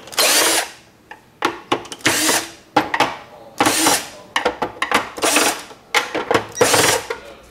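Loud, close power drill whirring in repeated short bursts while driving screws on a gummed tape dispenser, each spin-up lasting about a second with brief gaps between them.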